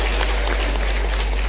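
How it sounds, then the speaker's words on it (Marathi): An audience claps at a political event in Pune, a dense burst of applause, loud and continuous, with a low hum beneath. "कोण आहो तुम्ही कशासाठी टाळ्या वाजवताय"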